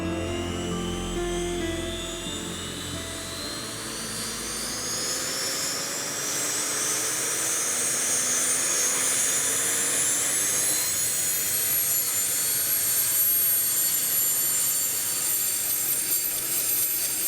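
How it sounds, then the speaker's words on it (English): A twin-rotor Chinook military helicopter roars loud and steady throughout, a dense turbine whine rising slowly in pitch over the heavy rotor noise, with no voices. "the twin-rotored Chinook has been in service since the Vietnam War in 1972"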